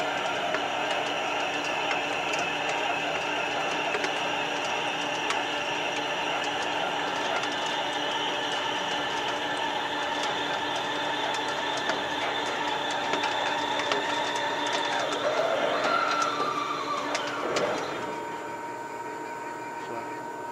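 RMT Pipe Spool Master machine facing a pipe under hand-wheel control, giving a steady mechanical whir and grind for most of the stretch before winding down and stopping near the end, with faint talk under it.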